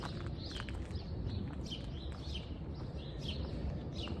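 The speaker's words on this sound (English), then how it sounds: "You hear the birds, right?" Birds chirp in scattered short calls outdoors among blossoming flowers, faint and distant over a steady low rumble of background noise.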